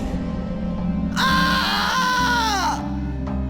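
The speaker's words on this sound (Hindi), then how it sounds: "उसे देखते ही सुरेश जोर जोर से चीखने लगा और दौड़ने लगा।" A loud, sustained scream rises abruptly and wavers for about a second and a half before breaking off, set against a low ambient drone in a horror story scene.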